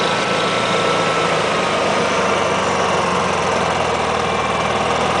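A Honda EU6500iS generator runs loud and close, a constant dense engine drone with an even steady tone and no voices over it.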